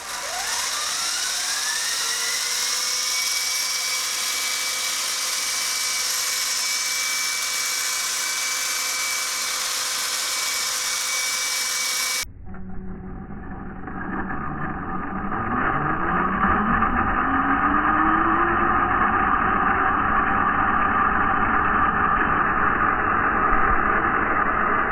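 A helicopter spools up for takeoff in a science quiz segment, its engine whine and rotor rising steadily, then an abrupt shift to a louder, broader rotor roar with a sweeping tone, continuous and close, no talk.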